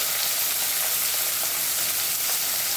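Finely chopped onion frying in a pan for a prawn biryani gives a steady, even sizzle close by, with no voices.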